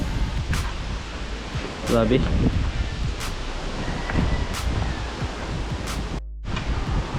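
Strong gusting wind blows across an outdoor boat building site, a steady broadband roar with rustling bursts, while people talk over it.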